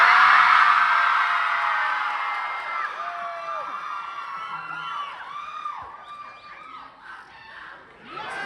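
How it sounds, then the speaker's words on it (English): Girls in a New York concert audience scream loudly at once, a dense wave of high-pitched shrieks and whoops that starts strongest and gradually fades, with scattered individual cries trailing off. "I would like to hear all the girls give a beaten scream,"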